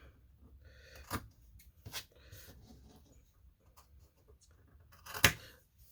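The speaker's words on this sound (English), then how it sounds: "And I'm just going to trim the dog ears." Scissors trimming the dog-ear corners off quilting fabric for a table runner block: three crisp, separate snips, quiet and close, the last one the sharpest.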